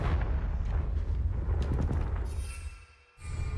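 A Confringo fire curse spell cast in Hogwarts Legacy lands as a loud, rumbling fiery blast with crackling bursts that fades into a brief lull before another low boom rises.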